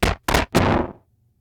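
Chest hits, slowed down and distorted with iZotope Trash, land as three loud, crunchy, booming thuds in quick succession, the last one swelling longer before dying into a low hum.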